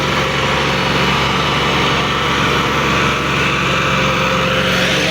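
A Massey Ferguson 260 tractor engine pulling a disc harrow drones loudly and steadily, close by, a constant laboring hum with no pauses.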